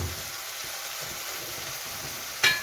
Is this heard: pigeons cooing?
no